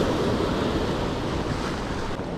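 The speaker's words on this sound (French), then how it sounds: "Voilà les vagues là." Sea waves breaking on the shore at a saltwater fishing spot, a loud, continuous wash of surf and spray with some wind buffeting the microphone, with no talk.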